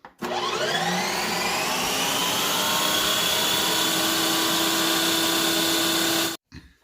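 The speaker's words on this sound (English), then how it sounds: "we're going to put it onto sorbet, and we're going to hit spin" A kitchen machine spins frozen sorbet on its sorbet setting. It starts abruptly and rises in pitch to a loud, steady motor whine with a grinding undertone, runs for about six seconds, then cuts off.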